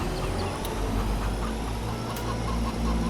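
A rooster near a farm clucks in a few short, scattered calls, partly buried under a steady, loud low drone that continues throughout.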